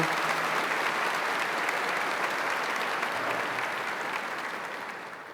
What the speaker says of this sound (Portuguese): Podemos aplaudir o Santo Evangelho proclamado.